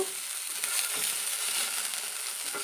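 Bangude (mackerel) tawa fry sizzling in a pan in a kitchen, a steady broadband crackle and hiss close by, continuous with no talk.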